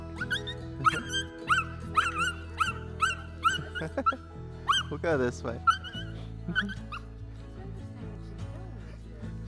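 A dog barks repeatedly in short yips and bow-wows while a person speaks calmly nearby, the barking tapering off toward the end.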